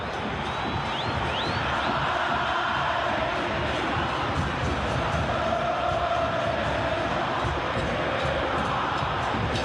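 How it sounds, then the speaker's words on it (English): Crowd noise at a football stadium during a Chile vs Ecuador World Cup qualifier: a dense, steady roar of many voices that fills the whole stretch, with a faint rising chant or whistle briefly standing out. "Just listen to the crowd here."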